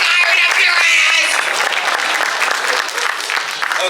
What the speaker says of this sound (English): Hey, applaud that!